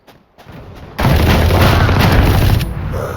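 Gunfire in the video game Valorant starts after a quiet moment as a sudden loud burst of rapid shots and booms that continues densely to the end.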